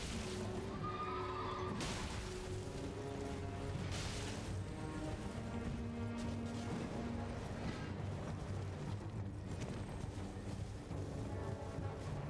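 Knight's Cavalry horse whinnying in Elden Ring, a loud neigh rising over dense battle and game noise with hooves and clashing sounds throughout.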